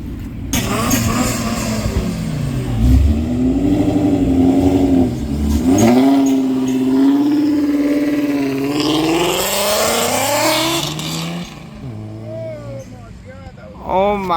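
A car engine at a car show revs hard and climbs in pitch, close and loud, then falls back and dies away. Bystanders talk and cheer under the engine.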